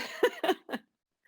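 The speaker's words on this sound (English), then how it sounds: "I was coughing before and I thought I better mute." Three quick, close coughs in a row come from a participant at a regional roadshow meeting, followed by silence.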